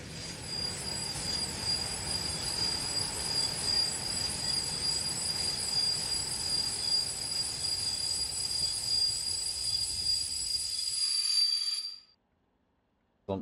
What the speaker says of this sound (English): the rattles in the wheel flat